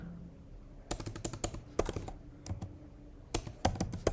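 Keys tapping on a computer keyboard while an SQL query is typed, coming in quick bursts of close, crisp clicks separated by short pauses.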